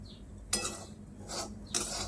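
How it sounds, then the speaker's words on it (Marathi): Sambhar vadi filling being stir-fried in a pan, a spatula scraping and tossing it in three short bursts separated by a steady low background hum, fairly close. "हे सारण आपल्याला परतून परतून घ्यायचं"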